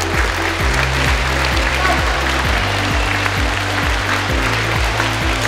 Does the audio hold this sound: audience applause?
yes